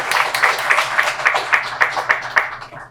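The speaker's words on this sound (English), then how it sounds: "let's give all of our amazing sponsors a round of applause" Audience clapping at a school district Student of the Month ceremony forms an evenly spaced, rhythmic beat of about ten sharp claps, close and fairly loud, without any speech.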